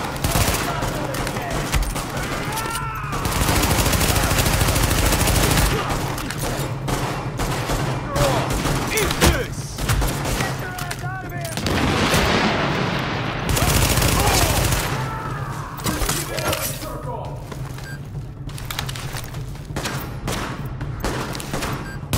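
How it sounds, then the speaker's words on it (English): A rooftop gunner in The Division pours sustained automatic fire during a Madison Field shootout, the rapid bursts loud and dense for long stretches with brief pauses and a low battle rumble underneath. "Party's taking heavy fire from the roof."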